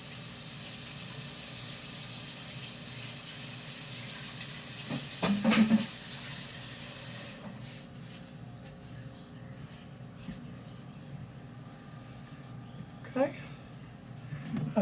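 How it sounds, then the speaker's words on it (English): A kitchen tap runs while hands are washed, a steady hiss that stops about halfway through, followed by quieter room sounds and a few light knocks and clatters. "Wash my hands."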